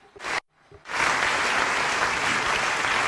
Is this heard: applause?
yes